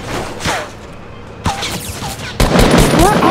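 Gunfire in Fortnite Battle Royale: sharp separate shots around the first half, then a dense rapid burst of fire near the end, with brief voices in between.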